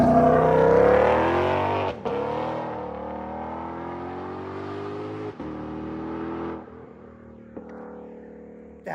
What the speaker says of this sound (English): I have not heard his car do a flyby from outside the car.